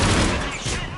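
Dense, loud bursts of gunfire in a science-fiction shooter video game on PS4, a continuous chaotic battle barrage filling the whole second with no clear pauses.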